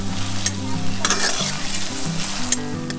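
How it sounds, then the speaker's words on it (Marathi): Onion and tomato frying in a pan at a campsite, a steady close sizzle with scraping stirring strokes and a few sharp clinks of a spoon against the pan, no voices. "आता कांदा परतून झाला की टोमॅटो परतून घेणार आहे"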